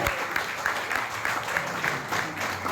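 An audience claps loudly and continuously, applause filling the room at a steady level from start to finish with no voices over it.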